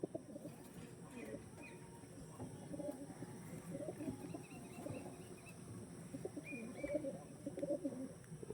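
Pigeons in a breeder's loft coo repeatedly in soft, low, burbling calls that overlap in an irregular rhythm, close by and moderately quiet, with faint talking in the background.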